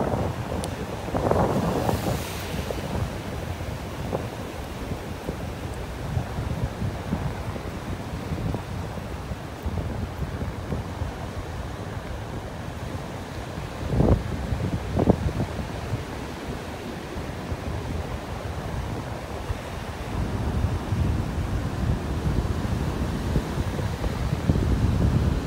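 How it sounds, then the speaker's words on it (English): Strong wind buffets the microphone on a Florida Gulf beach in North Naples, a continuous roaring rumble with surf washing underneath and a couple of louder gusts partway through, with no voices. "Boy, this wind is something else."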